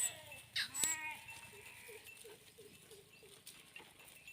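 Sheep in a flock on a farm give a couple of short, close bleats early on, followed by softer, scattered animal calls and rustling.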